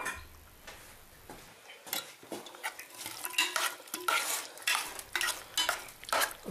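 Chopped carrots are added to a saucepan on very low heat and stirred, giving close, irregular clinks and scrapes over a faint sizzle, with no talking.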